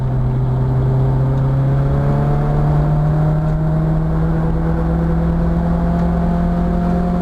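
A Nissan 240SX S13 drift car's engine drones loudly and steadily, its pitch climbing slowly across the stretch with no voices over it.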